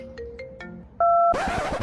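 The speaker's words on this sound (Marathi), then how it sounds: "एक मिनिट मग फोन आलाय." A mobile phone ringtone plays for an incoming call: a run of rising electronic tones, then a sustained louder chime that bursts into a bright, full melody at close range, with no talk over it.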